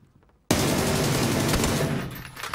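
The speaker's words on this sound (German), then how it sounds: "Die rattert ganz schön rein, ey." Beryl M762 assault rifle in PUBG firing a long full-auto burst: after a brief quiet start, a loud, dense rattle of rapid shots runs unbroken for about two seconds, then tails off.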